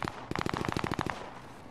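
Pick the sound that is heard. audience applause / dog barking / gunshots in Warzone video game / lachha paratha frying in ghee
gunshots in Warzone video game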